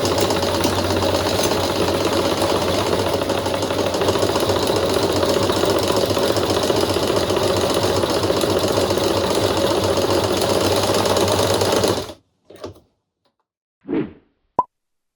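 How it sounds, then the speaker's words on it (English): A sewing machine stitching the edge of a reversible bucket hat runs in a steady, loud, continuous whir for about twelve seconds, then stops abruptly, followed by a few brief knocks and handling sounds in near silence. "I am going to sew 1 centimeter all around the edge, stopping 10 centimeters before the end."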